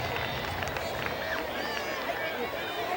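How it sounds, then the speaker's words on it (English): A high school football crowd in a 1994 Bulldogs game applauds an injured punter: steady, distant clapping and crowd noise fill the stands, while a commentator talks over it. "he gets a nice round of applause as he comes out in the field"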